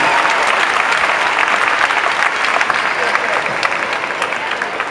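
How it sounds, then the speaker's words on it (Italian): Audience applause at the San Gennaro Day award event, a dense, sustained wash of clapping that stays loud and even from start to finish. "Vi chiedo un altro applauso"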